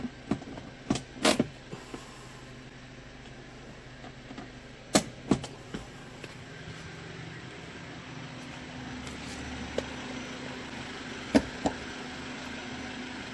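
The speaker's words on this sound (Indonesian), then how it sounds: "Kembali ke rem tangan, kita tarik dan lepas lagi tuas remnya." The handbrake lever of a Toyota Avanza is pulled and released during a rear brake adjustment, giving a series of sharp mechanical clicks and ratchet knocks scattered across a quiet background, with no talking.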